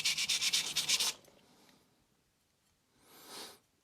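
Knife blade drawn across a sintered diamond stone of 400 grit, a fast run of about seven close, loud rasping strokes over roughly a second, then quiet and a single softer scrape near the end.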